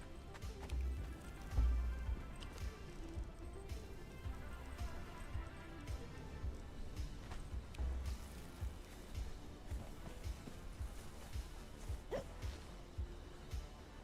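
Hooves clip-clop at an even pace as a horse is ridden in the video game Conan Exiles, a continuous run of soft thuds mixed with game ambience and occasional whooshes, with no talking.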